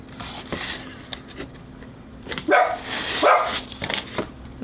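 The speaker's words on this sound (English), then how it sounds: "He barks. That's what he does." A pet dog barks indoors during a small foam model airplane build, two clear barks fairly close, with faint workshop clicks and rustling around them and no talking.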